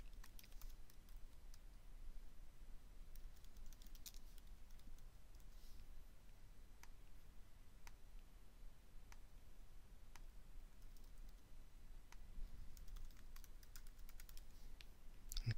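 Quiet typing on a computer keyboard while filling out a form, scattered light key clicks over a faint steady background hiss, with no talking.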